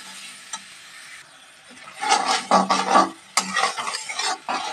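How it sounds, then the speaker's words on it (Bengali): Spice paste with Kashmiri chilli, turmeric and salt is stirred and fried for a jackfruit prawn curry, a quiet sizzle first, then loud, close scraping and stirring strokes over the hissing oil. "দিয়ে ভালো করে আবারও কিন্তু মশলাটা সুন্দর করে কষিয়ে নিচ্ছি"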